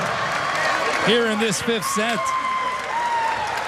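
Crowd noise from the fifth set of a men's Big West college volleyball tournament match between UCSB and CSUN, a steady roar of cheering and applause throughout, with a commentator talking over it.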